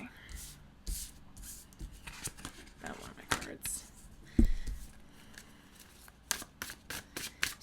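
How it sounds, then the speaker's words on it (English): Tarot cards are shuffled by hand in quick, uneven riffles and soft slaps, close and fairly quiet, with a person speaking in between. "I'm going to keep shuffling"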